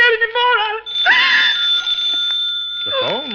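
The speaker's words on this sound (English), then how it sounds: "The phone, Matilda." An old-fashioned telephone bell rings in a tense radio drama scene on a stormy night, a sustained bright ring following a woman's scream and trailing into fading sound effects.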